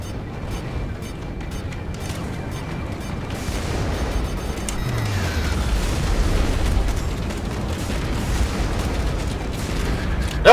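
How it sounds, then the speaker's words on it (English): An explosion in the space combat video game Strike Suit Zero, a deep descending rumble midway through amid continuous loud game noise and low booms, with no talk. "There's the explosion."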